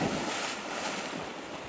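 A river rushes along in a steady, broad wash of loud flowing water, with no breaks or voices.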